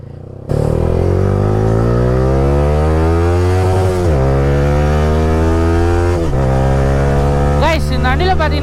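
A Yamaha R15 motorcycle accelerates hard on an open-road top speed run, its engine note climbing steadily through gears with short dips at each shift, loud and continuous.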